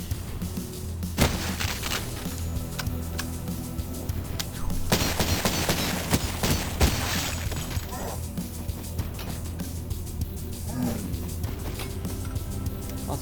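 Automatic rifle fire in the Cultic video game, bursts of rapid shots mixed with crashing and shattering impacts, loud and close amid a busy din of combat.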